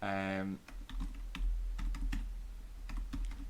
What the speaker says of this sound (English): loud typing